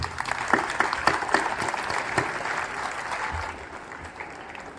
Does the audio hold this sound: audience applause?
yes